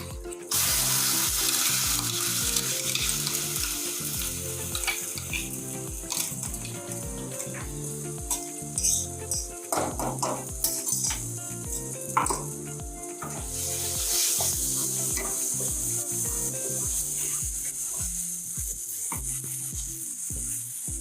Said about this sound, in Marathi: आता ही आपण कांदा लसणाची पेस्ट काढली ती मी टाकून घेते.